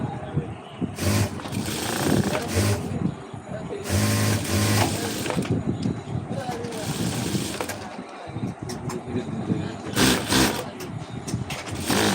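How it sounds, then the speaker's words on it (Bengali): A sewing machine stitching a white semi shirt runs in loud, close bursts of rapid mechanical whirring, stopping and starting between seams, with a voice speaking over parts of it. "চলছে সাদা সেমিস লাইভ সেলাই"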